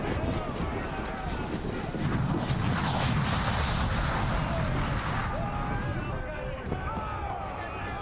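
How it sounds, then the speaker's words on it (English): Chaotic crashes and booming ship cannon fire in a busy naval battle scene in the video game Assassin's Creed 4, with several voices shouting over the din. "Man the cannons!"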